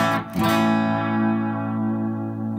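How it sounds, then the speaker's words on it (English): A clean electric guitar tone through a Quilter amp: one struck chord rings out and sustains steadily, decaying slowly with no speech over it. "so here's the sound of just the Quilter amp, just a clean sound."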